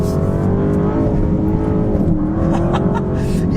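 A 2024 Audi RS7 Performance engine drones loudly with a steady exhaust note that shifts in pitch, broken by short popping crackles from the exhaust, heard close and without talk.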